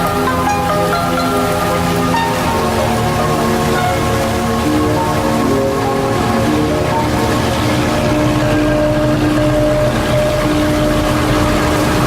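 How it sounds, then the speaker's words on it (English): Tropical thunderstorm rain falling in the Mekong delta of Vietnam, a loud, continuous rush of rain close by, with a steady engine drone and tonal hum underneath. "The rain provides a welcome, though brief, respite from the hot sun and the humidity of this region."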